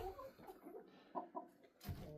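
Chickens on a homestead cluck in short, irregular bursts, fairly close and moderately loud, with one sharper squawk near the end.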